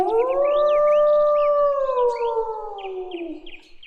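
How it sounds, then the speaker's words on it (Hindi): A cartoon fox lets out a long, loud howl after eating its fill of watermelons, a sustained wavering cry that holds steady and then slowly falls away, with chirpy bird-like calls in the background. "जब लोमड़ी का पेट भर गया तब वो हुआ हुआ करके अपने मुंह से आवाज निकालने"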